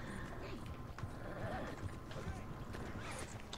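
A horse in a first-person shooter video game whinnies and neighs amid clip-clopping hooves and steady, noisy gunfight clatter throughout, with no clear talk over it.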